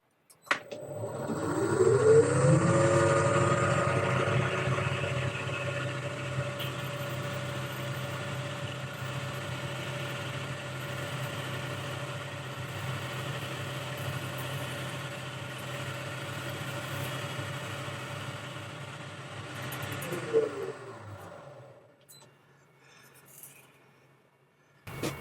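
Lathe turning a nylon workpiece down to diameter with a high-speed steel cutting tool for a hinge repair, a steady droning machine hum that holds for about twenty seconds and then winds down and stops near the end.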